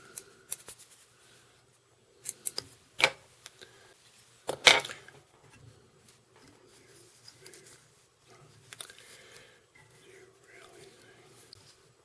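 Scissors trim fly tying material for an Atlantic salmon fly, giving several quiet, close snips in short bursts separated by soft handling rustles.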